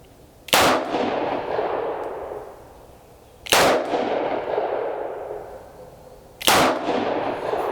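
Three loud, sharp revolver shots from a Henry Big Boy fired double action at an outdoor range, evenly spaced about three seconds apart, each with a ringing tail that echoes and decays.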